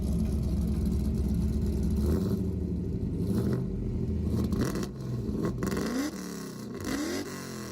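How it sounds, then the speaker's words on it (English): Deep rumbling exhaust of a fourth-generation Pontiac Firehawk with a 2-into-1 performance exhaust revving close by, with several throttle blips rising and falling toward the end. "giving the Firehawks a much more aggressive exhaust tone"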